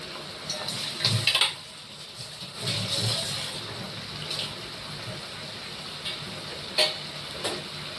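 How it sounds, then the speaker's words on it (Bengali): Spice masala is sautéed in a pan, a soft steady sizzle under intermittent stirring scrapes and a few louder clatters of the spoon. "মশলাটা এবার অনেকক্ষণ ধরে কষানো হবে।"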